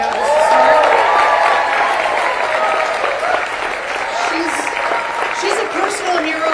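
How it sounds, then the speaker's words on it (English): A rally crowd at a Harris campaign event in Pennsylvania applauds steadily for Liz Cheney, a dense wash of clapping that holds throughout at a fairly loud level. "I think we could give her a round of applause right now just to start."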